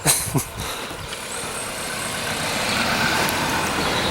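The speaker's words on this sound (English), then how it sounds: "And there's another car." A car passes in front of the entrance to Ruthin Castle, its engine rumble and tyre noise rising into a steady, fairly loud wash that holds to the end.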